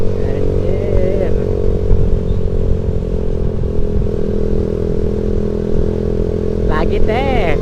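Motorcycle engine held at a steady, loud drone while accelerating down a road, close and continuous with wind rumble, a horn-like tone near the end and voices talking briefly over it.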